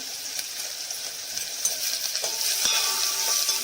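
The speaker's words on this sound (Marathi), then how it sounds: "आता आपण कांदा टाकत आहोत कांदा थोडा नरम होऊन द्यायचा आहे लसूण टाकलेला आहे" Onion and garlic fry in a pan with mustard seeds, cumin and asafoetida, giving a soft, quiet sizzle while a utensil clinks and scrapes a few times as the mix is stirred.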